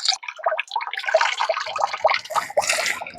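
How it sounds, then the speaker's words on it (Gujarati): Rice and lentils for Kathiyawadi khichdi are rubbed and rinsed by hand in water, giving close, irregular splashes, sloshes and drips in quick bursts, with no voices. "આપણે આને ઘસી હારોથી ધોઈ નાખવાનું છે જ્યાં સુધી તાજું પાણી ન થાય ને ત્યાં સુધી"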